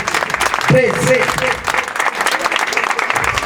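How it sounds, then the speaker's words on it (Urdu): Audience at a family prayer meeting clapping loudly, a dense burst of applause filling the room while a voice briefly rises above it near the start. "ذرا زور سے تالیاں بجائیں اس کے لیے۔"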